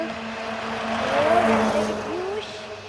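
A car passes along a village road in the evening, its engine tone rising and falling as it goes by at moderate distance, heard under a calm background.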